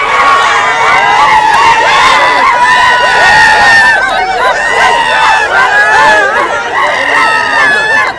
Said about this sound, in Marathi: हा रावसाहेब टेके पाटील यांचा विजयी जल्लोष आहे